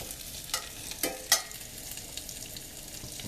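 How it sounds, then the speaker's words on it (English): Half-inch thin-cut pork chops going into a hot pan with vegetable oil, a soft continuous sizzle broken by three brief clacks as pieces are laid in, close by. "and now the pork chops go in"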